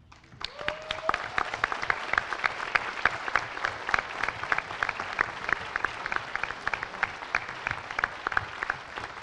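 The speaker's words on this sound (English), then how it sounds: "I would like to give them a round of applause" An audience at MINECON 2015, the Minecraft convention, applauds the mod authors with sustained, dense clapping that holds steady for several seconds, with faint voices mixed in.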